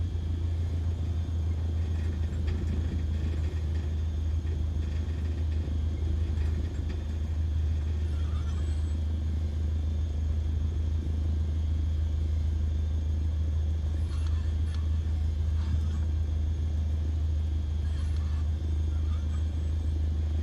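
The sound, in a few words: aircraft engine taxiing, Microsoft Flight Simulator 2020 video game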